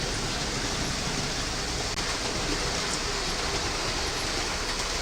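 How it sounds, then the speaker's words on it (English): Trains running nearby produce a constant broadband rumble and hiss, loud and unbroken from start to finish with no clear individual events. "noise level with the trains running?"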